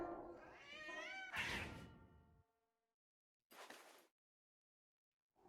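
Cat meowing and caterwauling in a game set at a radio tower, a drawn-out wavering yowl followed after silence by a short whooshing burst, moderately close.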